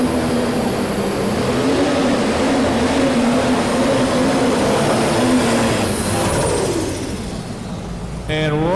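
Larry Shope's Iron Dragon pulling tractor from Belleville, Ohio roars loud and steady at a farm machinery show pull, a broad sustained engine drone with harmonic bands that eases slightly near the end, with crowd noise and a voice underneath.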